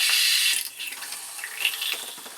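Water rushes in a hissing stream from an RV shower fitting with the hose removed, loud at first and then easing into a softer, sputtering flow close by.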